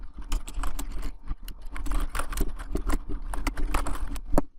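Rapid typing on a computer keyboard, close and fairly quiet, with a dense, irregular patter of key clicks and brief pauses and no one talking.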